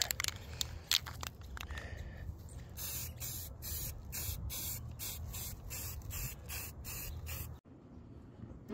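Aerosol can of 2-in-1 filler sand primer sprayed onto a 3D print, a series of close hissing bursts in a steady rhythm, some short and some sustained, with faint clicks and no talking.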